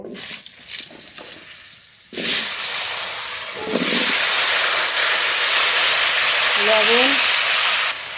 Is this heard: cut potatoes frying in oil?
yes